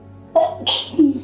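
A single sharp sneeze, close and loud, with a quick intake of breath before the explosive release, in a short moment of otherwise quiet room sound.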